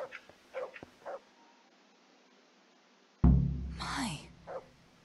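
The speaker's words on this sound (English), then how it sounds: "Dogs barking." Dogs barking in the medieval game Kingdom Come: Deliverance, a sudden loud volley of barks with yips after a stretch of soft game voices talking, close and dominant for about two seconds.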